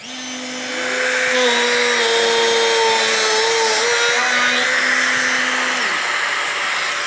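A power drill whines steadily at high pitch, its motor tone dipping and rising as it bores concealed hinge holes into wood, continuous for several seconds with no talk.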